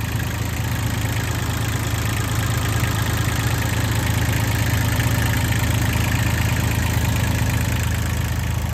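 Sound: Kubota three-cylinder diesel engine idling

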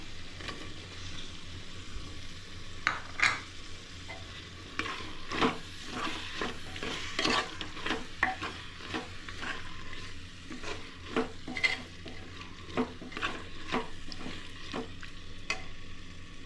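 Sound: stirring chicken curry in a pot

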